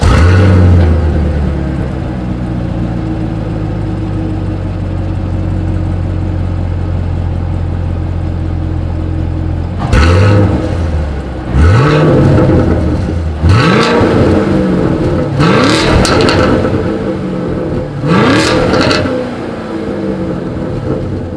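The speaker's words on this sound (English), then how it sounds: "As always, here is that exhaust clip." A 2020 Chevrolet Camaro SS V8 idles with a deep, loud exhaust rumble, then is revved several times in sharp bursts that rise and fall back to idle, close up with no talking.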